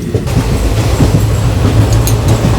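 A Konkan Railway train rolls along on the Panvel to Rajapur route, its loud, continuous rumble and wheel clatter heard close up from on board, with no talking.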